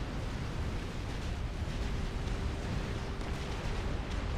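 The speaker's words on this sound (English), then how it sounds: "This just kind of wave of explosions and fire and death and destruction" A dense, continuous wave of explosions and fire rolls on in a large battle in the strategy game Supreme Commander: Forged Alliance, a loud rumbling barrage with scattered sharp blasts and no talking.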